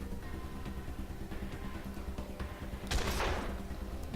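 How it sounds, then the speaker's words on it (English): Shotgun fire in the video game Wasteland 2, a single loud burst standing out from a busy background of game sound. "Get up close and shotgun it."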